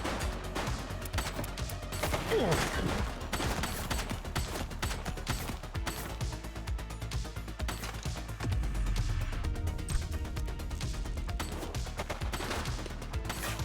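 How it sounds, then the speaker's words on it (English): Gunfire in the police video game The Precinct, dense rapid shots and bursts layered over a continuous busy background of game sound, steady and fairly loud for the whole stretch. "She's shooting!"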